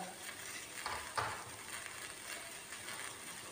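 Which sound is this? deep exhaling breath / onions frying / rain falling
onions frying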